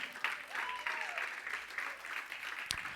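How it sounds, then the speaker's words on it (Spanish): A church congregation claps steadily throughout, a dense patter of applause with a brief whistle or cry rising above it. "Dale palmas al Señor."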